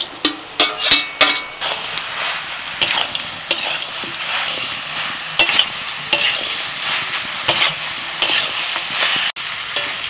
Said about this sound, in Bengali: মশলার সাথে সবকিছু ভালো করে কষিয়েছি প্রায় 3-4 মিনিট ধরে।